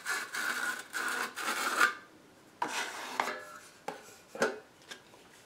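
Steel trowel scraping and spreading tile adhesive along a kitchen cabinet toe kick, a run of close, rasping strokes in bursts followed by shorter separate scrapes and taps, with no talking.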